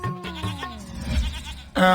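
Goats in an animated Hindi fairy tale bleat over a tonal musical backing, and a louder sustained sound swells at the end.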